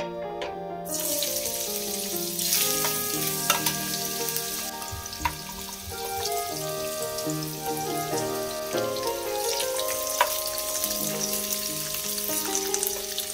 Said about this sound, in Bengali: এবারে প্রথমে গাজরগুলো আমি তেলে দিয়ে দেবো।